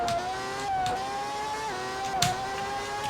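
A Ferrari Formula 1 car in the racing game Grand Prix 4, 1990 season, a high, whining simulated engine note holding steady with brief gear-change dips, moderately loud and alone.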